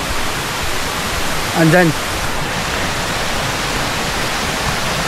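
Twin Falls in Kalayaan, Laguna: broad, constant hiss of falling water rushing close by, with a brief spoken voice over it.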